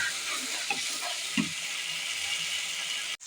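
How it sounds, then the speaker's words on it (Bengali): Spices and tomato frying in oil in a pan, a steady close sizzle with a few soft scraping stirs of a spoon, ending in a sharp knock. "এবার মশলা আর টমেটোটা একটু ভালো করে কষিয়ে নেব।"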